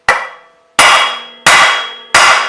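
Four heavy blows from a big hammer striking the end of a stuck car clutch part, each a sharp metallic impact with a long ringing decay, roughly evenly spaced, loud and close.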